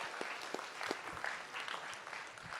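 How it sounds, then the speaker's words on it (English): Students at a new student orientation give a round of applause. The sound is faint and thin, with scattered individual claps rather than a full roar. "giving yourselves a big round of applause for being here"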